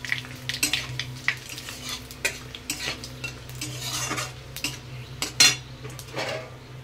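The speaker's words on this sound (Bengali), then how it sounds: "ফোড়নটাকে খুব ভালো করে ভেজে নেব।" Bengali tempering of five-spice, dried chilli and bay leaf frying in hot oil, with a constant sizzle under frequent scraping, clinking stirs of a utensil against the pan, close and moderately loud.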